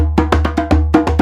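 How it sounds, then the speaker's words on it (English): A djembe held up off the floor with its bottom hole open, struck in a quick irregular pattern of about eight sharp, resonant hand hits over a steady low hum, close and loud with no talking. "If I lift it up so that the hole is off the floor and uncovered"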